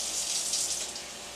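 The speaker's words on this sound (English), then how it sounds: "So I'm going to turn on the cold water." Cold water runs from a kitchen tap during cooking prep, a steady close hiss of flowing water that lasts the whole brief moment without a break.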